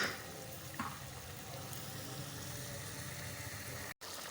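Chicken pieces fry with spices in a pan for Bombay biryani, giving a steady, faint sizzle that runs unbroken and alone, with a brief clatter partway through.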